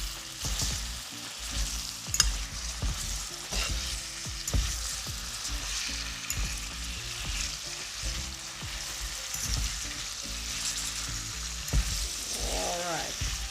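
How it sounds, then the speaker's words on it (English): Onions and scotch bonnet pepper frying in a pot for Jamaican-style escovitch fish, a steady close sizzle with repeated stirring scrapes throughout, alone without talk. "these onions, you don't have to worry about separating them before you get into the pot"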